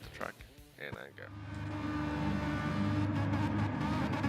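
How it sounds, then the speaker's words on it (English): A racing car engine in a racing video game holds steady high revs against the limiter on the starting grid, a buzzing sustained drone that rises after brief talk at the start. "You hear the revs of Mr. Sean's car bouncing off the limiter as he's waiting for the lights to go out"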